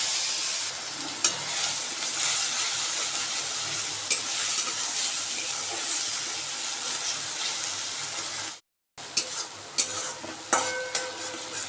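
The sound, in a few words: cumin and bay leaf sizzling in fish-frying oil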